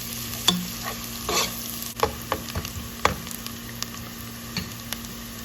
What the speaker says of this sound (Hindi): इस प्याज को मैं फ्राई करूंगी यहाँ तक कि इसका ये कलर लाइट सा आ जाए